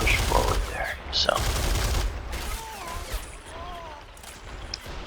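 Machine gun fire rattles in a World War battle scene from the video game Men of War: Assault Squad 2, bursts mixed into a busy wash of distant gunfire and battlefield noise.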